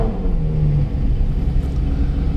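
A Ferrari F12 pulls away with a deep, steady engine rumble close by, holding a fairly constant low drone throughout with no talking.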